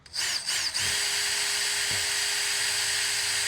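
A power drill whines steadily and loudly, close up, grinding into a plastic gas can with a dull drill bit, without pause.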